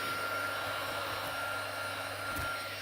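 A handheld dryer blows steadily over alcohol ink on a craft mat, a loud, unbroken whirring rush filling the whole stretch with no talking.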